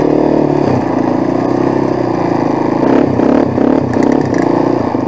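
A quad bike driven hard on only three wheels after losing one, its engine droning loud and close with rising revs and rattling clatter throughout.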